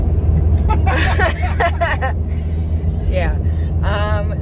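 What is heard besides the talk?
RV driving on the road to a campsite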